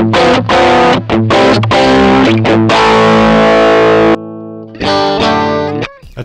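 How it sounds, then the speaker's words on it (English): An electric guitar plays through a Joyo AC Tone pedal, a VOX AC30-style overdrive. Loud, close, gritty chords and riffs sustain, with a held chord that cuts out and then a further strummed phrase. "That's the Joyo AC Tone."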